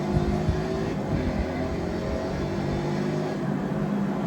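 A car engine hums and whines steadily as it drives with automatic gears in the racing video game Forza Horizon, a continuous mid-level drone with no talk.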